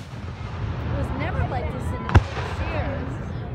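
A fireworks show booms in the distance with muffled, irregular thuds and pops, one sharp close crack standing out, while people talk nearby over the display.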